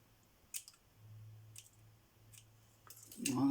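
Scissors snip a thin paper gift tag with a few separate short cuts, each one quiet and close, then a brief rustle of paper handling at the end, with no talking.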